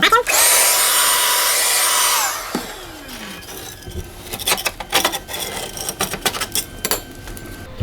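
A metal spatula scrapes around a removed stove top during cleaning, a loud sustained grinding rasp at first, then a run of shorter scraping strokes and taps at close range.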